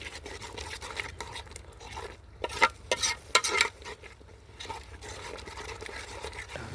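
Green peas get stirred into a green turmeric curry in a pan, with a spoon scraping and clinking against the pot under a soft sizzle, including a few louder knocks in the middle.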